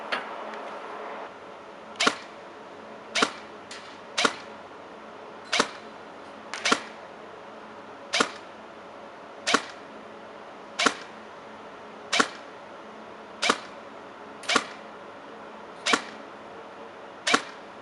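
A stock airsoft AEG firing heavy .28 ASG Devil Blaster BBs, about fifteen sharp, evenly spaced single shots, each a crisp snap with a second or so between them, outdoors with faint background hiss and no talk.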